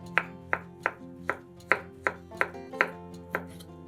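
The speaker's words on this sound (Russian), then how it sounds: "Крабовые палочки разрезаем вдоль пополам и нарезаем небольшими кусочками" A knife chops crab sticks on a board in a steady, even rhythm, about ten crisp taps close by, over a faint background hum.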